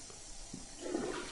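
Toilet flush in the video game Prey, a faint rushing swirl of water that rises and swells partway through, quiet and alone.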